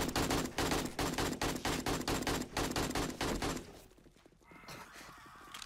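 Video game gunfire in rapid automatic bursts, loud and rhythmic for several seconds before breaking into scattered fainter shots and clatter.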